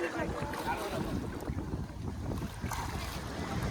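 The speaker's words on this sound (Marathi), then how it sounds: "बोट आली" Boat approaching on open water near Malvan on the Konkan coast, a steady wash of engine rumble, waves and wind buffeting the microphone continuously.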